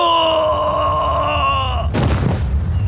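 Podcast bumper sound effect announcing Best Corpse: a loud, drawn-out groaning voice with wavering tones holds for about two seconds, then breaks into a short noisy burst and rumbling tail.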